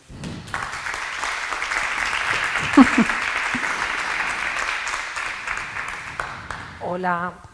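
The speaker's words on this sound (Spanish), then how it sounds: "Un aplauso." An audience at a crime-fiction literary festival in Fuerteventura gives a steady round of applause for several seconds, and a voice briefly speaks as the clapping fades out.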